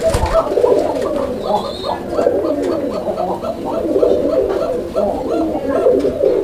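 Raj-golla pigeons cooing, male and female both, in a continuous overlapping chorus of rolling low coos close by, steady and fairly loud, with a brief bump of handling noise at the start.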